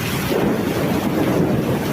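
Strong typhoon wind roars in a steady, heavy buffeting against the microphone, loud and close, with no voices over it.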